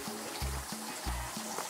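A small waterfall at Cascada de Amolo in Xochiatipan, Hidalgo, still trickling after drying down, giving a steady broad wash of running water with low rhythmic tonal pulses beneath it.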